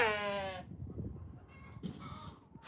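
A sheep in a flooded sheep pen gives a loud, wavering bleat, then a second, shorter bleat follows. Splashing, rustling farmyard noise fills the space in between.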